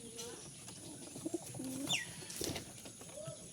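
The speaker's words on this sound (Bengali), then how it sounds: "কবুতরগুলা" Pigeons cooing nearby, a few soft low throaty coos with a faint chirp and a brief rustle, quiet and unaccompanied by talk.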